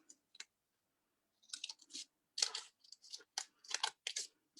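Scissors cutting paper for a holiday DIY snap frame, a series of short, quiet, close snips and crunches in quick irregular bursts after a brief pause.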